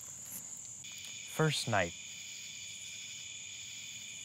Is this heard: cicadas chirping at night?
yes